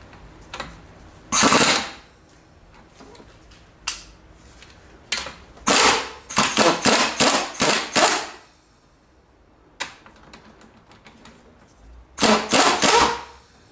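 A top nut comes off a front strut on a 1999 Pontiac Grand Am under repeated loud, sharp bursts of an impact gun, several rapid rattling hits in clusters with short gaps between, close up.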